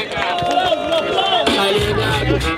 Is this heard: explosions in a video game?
no